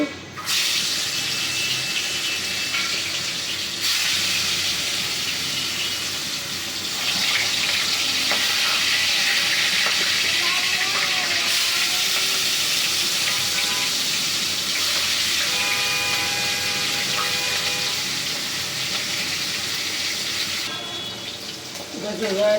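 Rohu fish pieces frying in hot oil with a pinch of salt sprinkled in, giving a steady, loud sizzling hiss that runs unbroken and close throughout, with faint voices in the background.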